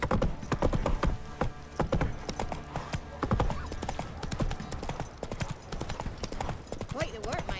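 Galloping hooves of Roach, the horse in the video game Witcher 3, a rapid continuous clip-clop with occasional snorts or whinnies, heard under talking voices.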